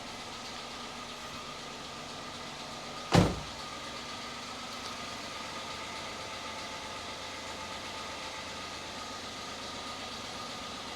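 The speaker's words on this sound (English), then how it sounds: "So just let it tick over." Toyota Aygo 1.0 petrol engine idles steadily after an oil change, a low, even hum with a sharp thump or click about three seconds in, then continuing unchanged.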